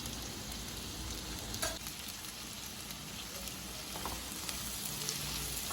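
Garlic, ginger, green chilli and curry leaves frying in hot coconut oil in a pan, a steady soft sizzle with faint crackles throughout and no talking.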